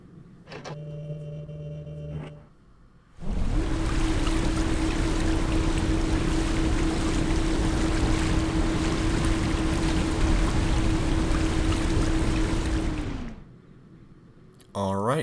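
An electric water pump runs steadily for about ten seconds, a loud broadband rush with a constant motor hum as water floods through, starting abruptly after a brief quiet and cutting off sharply at the end; faint voice and clicks before it.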